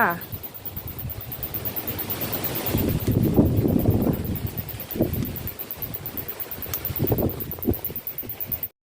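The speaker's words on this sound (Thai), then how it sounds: "วันนี้ลมแรงมากเลยค่ะ" Strong wind blowing outdoors at a rural New Year campsite, a steady roaring rush with gusts swelling around the middle and again near the end, while people talk faintly underneath.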